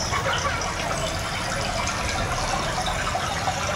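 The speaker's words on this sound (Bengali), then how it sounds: "আবার এখানে আছে হনুমানজি, দেখো জল পড়ছে।" Water pours steadily at a Hanuman statue in a Ganesh festival display, a continuous close gushing splash like a running tap, with no voices over it.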